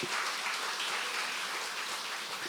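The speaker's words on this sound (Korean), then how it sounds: "자, 박수로 주님께 영광 드리겠습니다." Sustained applause from a church congregation at a healing revival meeting, a dense continuous wash of many hands clapping at steady loudness with no voices standing out.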